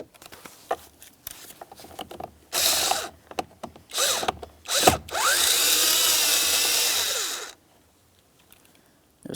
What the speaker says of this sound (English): you're going to be using a T25 Torx to remove each one of the 2 screws